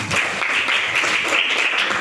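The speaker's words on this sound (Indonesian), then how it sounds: "Tepuk tangan." Listeners at a talk on hadith and devotion to parents applaud together, a loud, continuous burst of clapping with no pauses.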